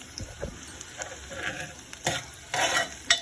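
Onions frying in a pan until brown, with a steady sizzle broken by scraping stirs and short clattering bursts near the end, close and moderately loud.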